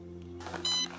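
A metal detector hums a steady electronic tone, then a brief higher-pitched beep sounds near the end, close and clear with no voices.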